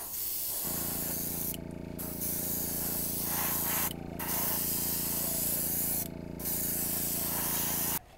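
Airbrush spraying car touch-up paint, powered by a running compressor: a steady airy hiss over a constant low hum, with three short pauses in the spray across the stretch and no talking.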